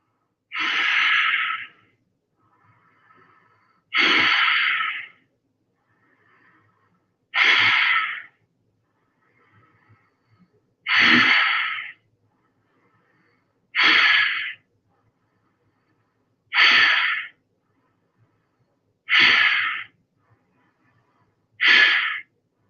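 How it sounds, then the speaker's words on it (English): Slow, deep breaths through the nose during a yoga pose, eight long airy exhalations at steady intervals with near silence between them, close and clear. "taking 10 deep breaths through the nose"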